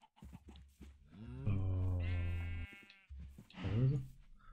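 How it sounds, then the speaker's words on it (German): Sheep bleating and cows mooing in the Minecraft video game, a few distinct calls in sequence, the longest a drawn-out moo, clear and close with no talk over them. "aus 5 Schafen wurden 2 Schafe und 2 Kühe."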